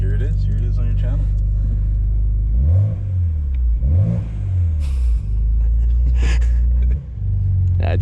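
A BMW 335i with the N54 engine accelerates on a test drive, its engine rumbling loudly from inside the cabin as revs rise and fall through several gear changes, with occasional voices inside the car.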